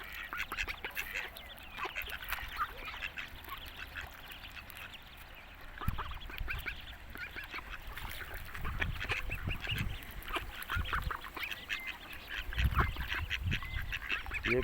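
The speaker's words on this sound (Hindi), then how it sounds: "ये वो ही है बड़ी बतख जिसके 12 बच्चे हैं ना, ये वो वाली बतख है।" A large duck quacks repeatedly outdoors in Logroño, Spain, amid other ducks during feeding, with harsh calls bursting out irregularly and growing louder toward the end.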